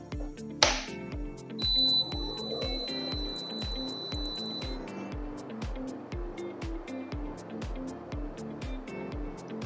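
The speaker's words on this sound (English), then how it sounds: "I will now turn on the concentrator to demonstrate this alarm." A DeVilbiss 1025 oxygen concentrator keeps up a steady rhythmic thumping while its alarm sounds a sustained, shrill electronic tone for a few seconds. A brief sharp click comes just before the alarm.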